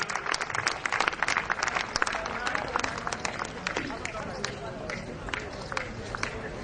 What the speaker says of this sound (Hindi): जोरदार तालियों से इनका हार्दिक अभिनंदन।